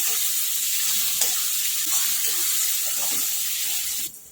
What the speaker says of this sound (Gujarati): હવે ટામેટા એડ કરીશું હવે થોડી વાર શેકાઈ રહી છે